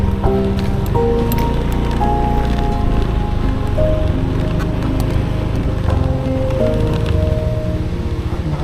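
Loud, constant roaring buffeting of strong wind near the summit of Mount Parawagan in Rodriguez, Rizal, dense and unbroken throughout, with faint tonal whines riding underneath.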